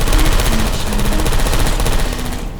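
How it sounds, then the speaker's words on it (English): Rapid bursts of gunfire in the video game Portal 2 rattle continuously, loud and close, with a dense mechanical chatter throughout. "I heard gunfire!"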